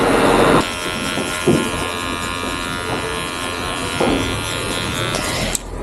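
Electric hair clippers buzz steadily and close up, cutting hair on a back taper with a guard and open lever, the hum shifting slightly as the blades pass through hair, with a click near the end.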